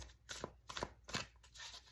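Tarot cards being shuffled by hand in bursts, four quick riffling rustles spaced about half a second apart, close and fairly soft with no talk.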